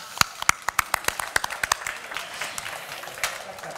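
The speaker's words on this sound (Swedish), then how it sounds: "En applåd för Thomas" An audience at a cooking competition semifinal in Karlstad applauds chef Thomas Sjögren, reigning Årets Kock champion, opening with sharp separate claps that swell into a dense, steady round of applause.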